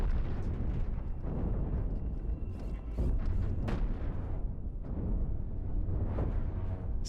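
Ship ammunition in Cosmoteer detonates in a chain reaction, a continuous rumbling roar of overlapping explosions with sharper bursts popping through every second or so, loud and unbroken throughout.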